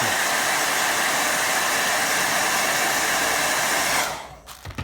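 A hair dryer blows on a watercolour painting of a cloudy beach, a loud, steady hiss that runs alone for about four seconds and then cuts off, leaving a few faint knocks.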